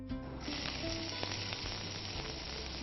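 Spices crackle in hot oil in a pan, a dense close hiss with scattered pops and a faint background hum, steady for a few seconds with no talking.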